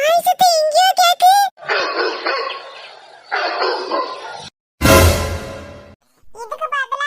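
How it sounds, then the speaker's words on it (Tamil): A cartoon dog barking, with a quick run of sharp, yappy barks up front and a few more at the end, separated by stretches of other voices and noisy sounds. "நாய் சத்தம் எங்கேயோ கேக்கு."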